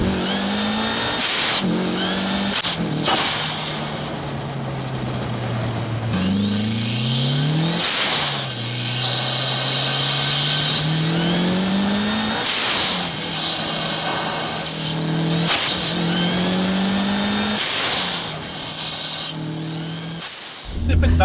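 Mitsubishi Evo 7 rally car with over 400 bhp driven flat out, its engine screaming up through the revs in repeated rising sweeps broken by sharp gear changes, loud and close from inside the car, with occasional voices over it.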